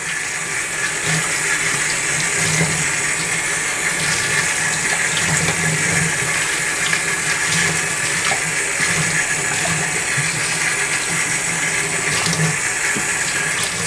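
Water runs steadily from a tap over hair to soak it before shampooing, a continuous close splashing and hiss with no voices.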